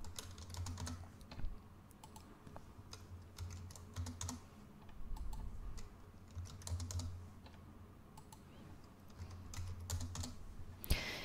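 Someone types data into a schedule in Revit software on a computer keyboard, a quiet, close run of irregular key clicks in short bursts with brief pauses and a sharper final tap.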